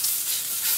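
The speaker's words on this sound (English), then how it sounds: "I like to brown on a high heat." Breakfast taco meat browns in a pan on high heat, giving a bright, steady sizzle with a close, loud crackling hiss and a slight swell near the end.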